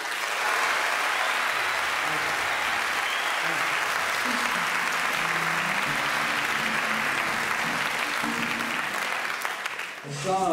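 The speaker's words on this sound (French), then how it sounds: "Je vous demande d'applaudir très fort Béatrice Faquet." A comedy festival audience in Nantes applauds loudly and steadily for about ten seconds, a dense wash of clapping that fades slightly before a voice cuts in at the very end.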